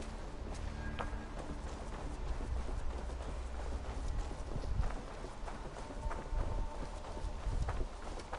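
Horse hooves galloping in Assassin's Creed Valhalla, a steady rapid clip-clop that runs without a break under a low, constant background rumble, moderately loud and close.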